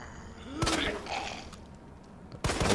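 Two sharp bursts of gunfire from the video game Resident Evil 2, one early and one near the end, loud and close with a quieter reverberant stretch between.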